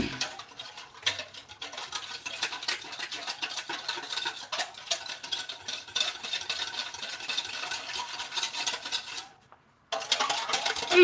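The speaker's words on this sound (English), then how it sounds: "I'm going to just whisk that together real quick." Rapid, steady clatter of a whisk in a bowl blending taco seasoning, sea salt and chili flakes with oil, close and continuous, with a brief pause near the end before the whisking resumes.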